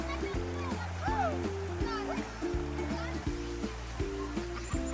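River water splashes continuously around children playing in a village river, with children's voices and shouts over the steady rushing and splatter of water.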